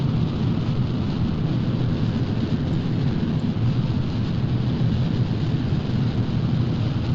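Rocket engine thrust during the Phoenix-1 launch, a loud, steady, unbroken low roar that fills the whole stretch with no pauses or changes.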